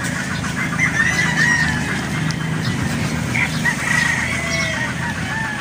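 A battle stag rooster on a Batangas game farm crows with long strained calls, two clear crows rising over a constant background of other fowl clucking and a low rumble, moderately near.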